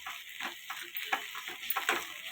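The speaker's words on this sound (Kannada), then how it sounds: "ಬೆಳ್ಳುಳ್ಳಿ ಎಲ್ಲ ಫ್ರೈ ಆಗಿದೆ. ಇದಕ್ಕೆ ಚಕ್ಕೆ ಲವಂಗ ಹಾಕ್ಕೊತಾ ಇದ್ದೀನಿ." Garlic fries in a pan with cinnamon and cloves, giving a quiet crackling sizzle broken by short bursts of stirring or spices dropping in. The sound is faint and close, with no voices.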